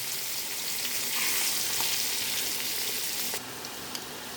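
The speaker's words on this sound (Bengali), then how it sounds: "এবার এই তেলে আমি বেগুনগুলো হালকা করে উল্টে পাল্টে নেব।" Steady, bright sizzling of eggplant turning in hot oil, continuous and close, with a slight drop in hiss near the end.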